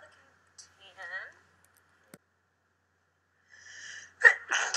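A single sharp human sneeze bursts out near the end, preceded by a short gasping intake and scattered quiet voice sounds in a Big Brother 20 house, close and fairly loud against a quiet room.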